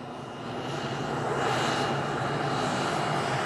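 A steady, loud broadband roar comes from an aircraft engine running nearby as astronauts arrive in Florida for a Space Shuttle Endeavour launch, building slightly and holding constant with no voices.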